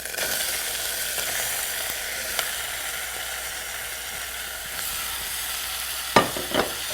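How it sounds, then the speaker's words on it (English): Tomatoes stir-fried in a pan with dried red chilies and fresh ginger, giving a steady close sizzle with a couple of brief scraping stirs near the end and no talk. "And stir fry for a few minutes."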